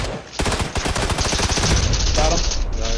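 Rapid gunfire in a PUBG match on Xbox One, a dense burst of automatic shots in quick rhythm, loud and close, continuing for several seconds with heavy low thumps.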